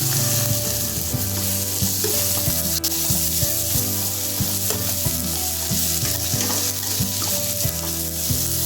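Curry leaves crackle and sizzle hard in hot oil in a pan for a hotel-style kurma, loud continuous frying with repeated scraping stir strokes and no talk.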